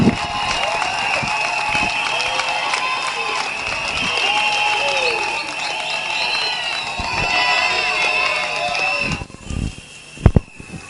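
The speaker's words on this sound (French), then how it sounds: "à qui je demande de l'applaudir fortement" Strong, sustained applause from a large audience honouring the director general of ONEM at a ceremony, a dense even roar of clapping with some voices mixed in, thinning out near the end into a few louder scattered claps.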